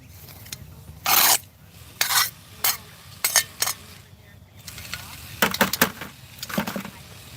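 Stiff brush scrubbing a cemetery headstone outdoors, heard as a series of short, rough rasping strokes, some single and some in quick clusters, close and fairly loud against a quiet outdoor background.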